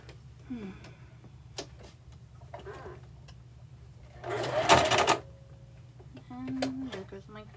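Domestic sewing machine stitching in short bursts, with intermittent ticking and mechanical clicks, one louder burst of whirring, fairly quiet and close.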